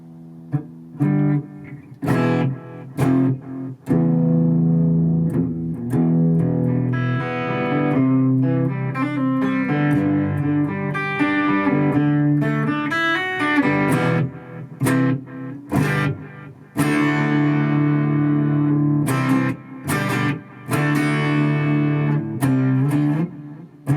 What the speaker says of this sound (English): let's get some maybe some reverb going on.